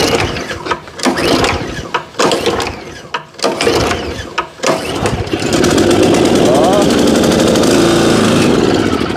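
A small engine on lawn care equipment is pull-started: several rapid rattling cord pulls and ratcheting bursts, then the engine catches and settles into a loud, steady running drone. A person speaks between the pulls.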